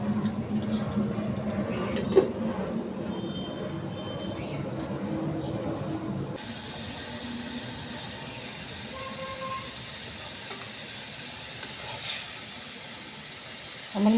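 Spices fry (bhuna) under a lid in a covered pan while cooking prawns with bottle gourd, a soft, steady sizzling hiss that drops quieter about halfway through.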